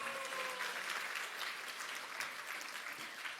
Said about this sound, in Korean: 신익희 초대 당대표님께 큰 박수 부탁드립니다.